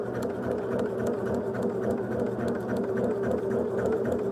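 A sewing machine runs a seam on a quilt block, a continuous even mechanical hum and rattle held steady throughout at moderate level.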